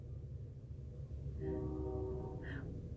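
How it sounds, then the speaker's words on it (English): A train sounds its horn in the distance, two sustained tonal blasts rising over a steady low rumble of the passing rail traffic; no talking. "We got a train coming through."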